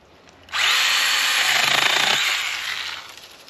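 A STIHL battery-powered garden pruner, a small chainsaw, bites into wood with a sudden close, loud buzzing whine that holds for about two seconds, then fades as the cut finishes.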